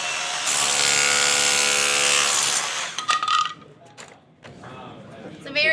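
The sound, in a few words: Milwaukee SDS tool with extension and tile chisel removing tile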